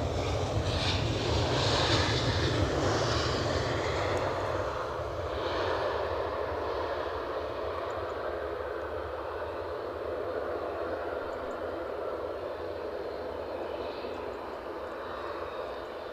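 An EasyJet airliner departs Edinburgh Airport, its jet engines a loud, broad roar that holds steady for the whole span with no voices over it.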